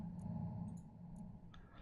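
A computer mouse clicks several times during a Space Engineers session, sharp small ticks spaced irregularly over a low steady background hum.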